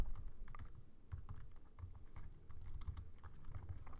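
Fingers tap steadily on a computer keyboard while Java code is entered, a quiet, close stream of irregular key clicks with no voice.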